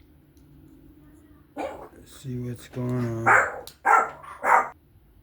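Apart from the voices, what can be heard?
dog barking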